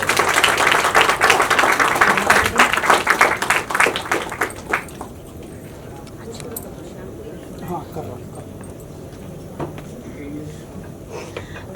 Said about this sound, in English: Can we have the applause, please, guys?